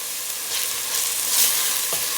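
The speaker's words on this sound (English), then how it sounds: "Now we're gonna add our onions and pepper. We're gonna fry this up for a minute or so." Onions and pepper fry in a pot for a chana chutney, a steady broad sizzle with light stirring scrapes, close and continuous with no talk.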